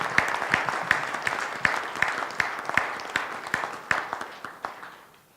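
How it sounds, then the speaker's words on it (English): Applause at a luncheon, a small group clapping with several distinct loud claps standing out from the patter, tapering off toward the end. "Let's applaud the faculty advisors."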